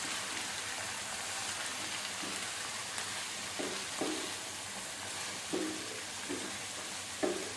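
Grated cabbage being stirred through onions and ginger-garlic paste in a frying pan, a steady soft sizzle with occasional scraping knocks of the spoon, close and alone without talk.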